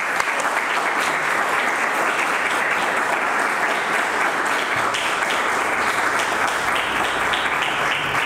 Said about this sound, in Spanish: Entonces, un aplauso para estas dos.